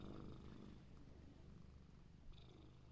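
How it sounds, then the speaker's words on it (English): A cat purrs close by, a soft, continuous low rumbling with a steady pulsing rhythm, faint and unbroken for the whole stretch. "Can you hear him purring?"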